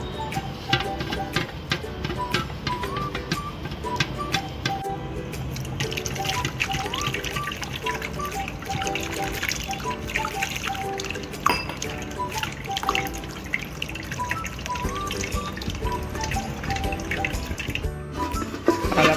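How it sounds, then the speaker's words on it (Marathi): Soaked pearl millet is strained with water for crisp kharvade, giving continuous trickling, splashing and light clinks of a vessel throughout, close by with no talking. "परत अशा पद्धतीने सगळी बाजरी मी गाळून घेणार आहे."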